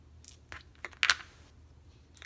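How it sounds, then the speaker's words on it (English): Small scissors snip and crunch through a nail wrap in a few short, quiet cuts, with one louder crisp snip near the middle, close up in a quiet room. "these are terrible scissors"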